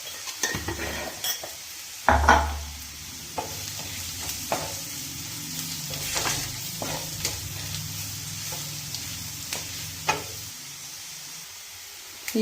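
Turmeric and chilli powder sizzle in a pan for a bitter gourd fry, stirred with a utensil that scrapes and clinks against the metal in irregular strokes over a soft, steady frying hiss.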